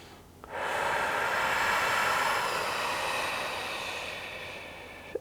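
One long, loud, breathy exhale lasting several seconds, close and airy, during a pregnancy mobility exercise for the feet, ankles and hips, fading gently at the end with a brief click.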